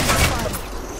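Gunfire in the Apex Legends video game: a single dense, loud burst of shots that fades over about a second, with in-game chatter mixed in.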